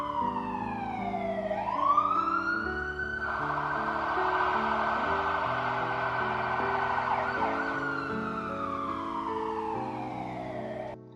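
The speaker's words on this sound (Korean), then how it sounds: "119의 앰뷸런스 소리를 듣고 난 후에 어떤 마음이 생겼나요?" A South Korean 119 ambulance siren wails steadily, sweeping up and holding a long rising tone, loud and close, over soft background music.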